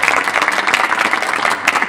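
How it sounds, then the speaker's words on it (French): An audience applauds the speakers at the close of a French-language conference session, loud and close, a thick continuous patter of many hands with no talking over it. "je vous propose qu'on applaudisse nos intervenants qui ont vraiment été super"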